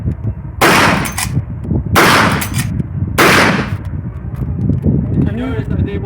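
Three loud rifle shots from a bolt-action rifle, spaced about a second apart at a historic fort weapons demonstration, each a sharp broadband crack with a short ringing tail, with faint background murmur between shots.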